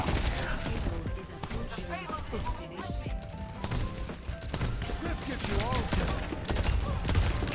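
Rapid gunfire and ability impacts from Overwatch 2 on the Eichenwalde map, with Baptiste shooting, form a dense, continuous stream of sharp cracks and clatter while someone talks over the gameplay.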